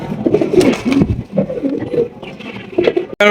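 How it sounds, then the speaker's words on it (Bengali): Black Lahori pigeons coo in low, throaty rolling phrases, close by, with a few soft flutters and a brief sharp noise at the very end. "রয়েছে একজোড়া লাহোরি কবুতর"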